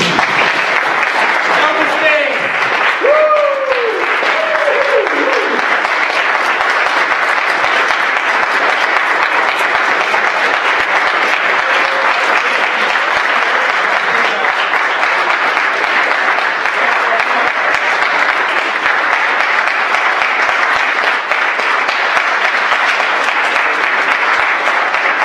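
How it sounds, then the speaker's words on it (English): Loud, sustained applause from an audience at a startup weekend event in Žilina, a dense unbroken roar of clapping that runs the full length, with a voice speaking briefly near the start. "round of applause. Round of applause."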